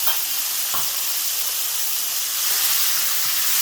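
Cherry tomatoes sizzle loudly in a hot oiled frying pan for an eggplant pasta sauce, a dense, steady hiss with a small stir clatter early on.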